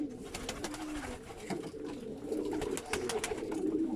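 Pigeons coo continuously in a loft where pearl-type birds are choosing nesting shelves, soft low burbling calls layered and overlapping close by, with a few light clicks and rustles throughout.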